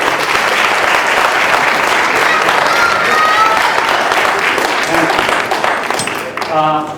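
Audience applause for a stage performer at a Kannada Rajyotsava cultural program, steady dense clapping from a crowd filling the room for about six seconds before tapering off, with a voice beginning to speak near the end.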